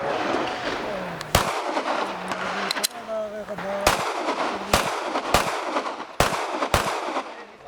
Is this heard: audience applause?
no